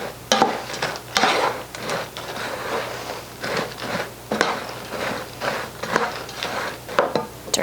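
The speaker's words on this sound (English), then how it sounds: "Mix that all together with the marshmallow mixture that you created." Fruit Loop cereal stirred into a sticky marshmallow mixture in a pot, with repeated scraping, crunching strokes in an uneven rhythm and a few sharp knocks of the spoon, close and fairly loud with no voices.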